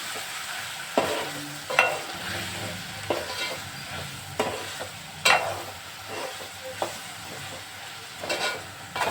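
A spoon scrapes and stirs eggplant and tomato curry in a pan with salt and chili powder, giving a soft steady sizzle broken by about a dozen close scraping strokes at an uneven rhythm, with no voices.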